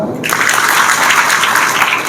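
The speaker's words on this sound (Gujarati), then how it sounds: "એ માટે તાળી પાડો." A crowd at a Guru Purnima satsang applauds warmly, a close, continuous patter of many hands that starts abruptly and keeps a steady loudness throughout.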